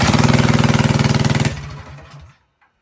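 A small gasoline engine on a mini bike runs at a fast, loud, pulsing idle close by, then winds down and cuts out to silence, with no talking.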